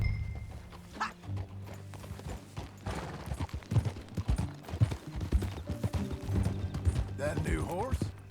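Horse hooves clip-clopping in Red Dead Redemption 2 while riding, a steady rhythmic gait under game music and ambience, with a short voice-like burst near the end.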